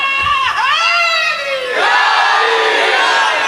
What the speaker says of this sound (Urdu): ایک مرتبہ پھر نعرے حیدری ذرا لگائیے